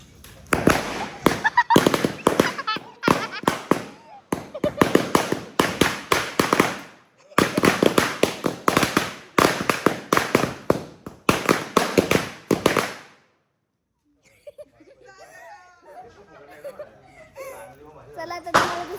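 Diwali firecrackers going off in repeated sharp bursts and crackling volleys, loud and close, during Lakshmi Pujan celebrations, with people talking and laughing between explosions before a quieter stretch near the end.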